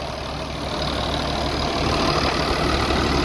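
A freshly rebuilt Caterpillar 3588 engine in a machine with over seven thousand hours idles steadily and smoothly, a low even rumble running unbroken without any voices.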